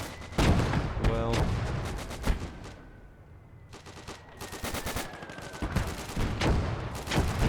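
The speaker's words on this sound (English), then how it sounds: "And a lot of infantry come shooting down the middle here." Infantry gunfire in the Gates of Hell war game rattles in dense bursts of rifle and machine-gun shots, with a brief lull midway before the volleys resume.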